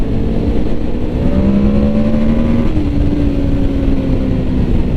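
A Yamaha Vmax motorcycle roars under a full-throttle pull toward 6,000 RPM, its engine note loud and close, climbing steadily in pitch with no talk.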